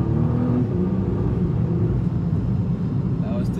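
A Nissan GT-R accelerates on a road during a Fourth of July drive, a deep, steady engine rumble heard from inside the car that holds a strong, even level throughout.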